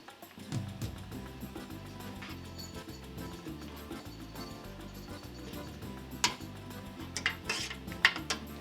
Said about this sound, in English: Looks like now we're all set with the stirring